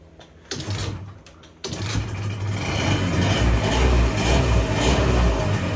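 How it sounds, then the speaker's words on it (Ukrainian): A Honda Tact scooter engine catches after a couple of short starter bursts, then settles into a steady, close idle with a low rhythmic putter and some mechanical clatter, with no talk over it. "мопед, навіть я здивований, він запустився з першого разу"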